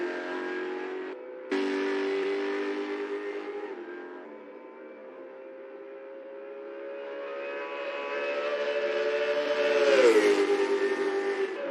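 Race cars leaving the pits in Assetto Corsa, a steady tonal engine whine holding under the pit limiter, then rising and sweeping upward as a car accelerates away, with a brief cut near the start.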